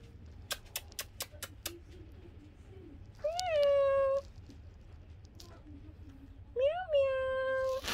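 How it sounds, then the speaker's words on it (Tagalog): A kitten found in a car park gives two clear, rising-then-falling meows a few seconds apart. Quiet background and a few sharp clicks come before them, and a voice speaks softly between the calls. "Meow. Meow, Saba."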